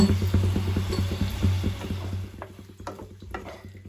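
Mushrooms being stirred in a frying pan while cooking chili mushroom, with a quick rhythmic scraping and tossing against the pan over a low steady sizzle, close and moderately loud with no talking.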